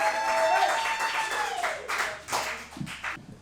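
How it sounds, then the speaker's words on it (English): Audience clapping at a comedy show in a museum venue, scattered hands patting under a presenter's voice and crowd chatter, fading into sparse claps. "James Demon, will you clap for that angel?"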